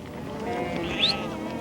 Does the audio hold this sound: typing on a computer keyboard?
no